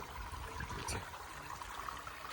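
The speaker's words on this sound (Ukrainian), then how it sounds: "О, такий ручієчок." A small mountain brook in the Carpathians flows with a steady, close, hissing rush of water that stays even throughout with no voices.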